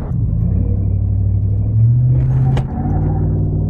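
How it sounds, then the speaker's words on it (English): A RAM 1500 pickup launches hard and its tires break loose, giving a loud, steady engine rumble up close that swells in pitch as it accelerates. "we broke the tires loose on that one"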